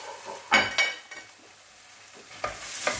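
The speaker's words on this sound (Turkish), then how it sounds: "Güzelce şöyle iyice bir karıştırıyorum arkadaşlar" A rice and zucchini dish is stirred in a pot, a spoon scraping and clinking in a few quick strokes with a soft sizzle beneath, then a pause before more stirring.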